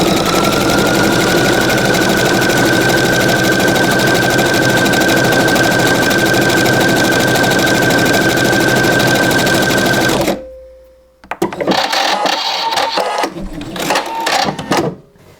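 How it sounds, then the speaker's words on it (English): A Pfaff Creative 3.0 sewing machine stitches on its own at a steady, loud mechanical whir with a high whine, then winds down and stops, followed by brief clicks and handling noises. "So I'm just going to press the play button and it's going to stitch it for me now."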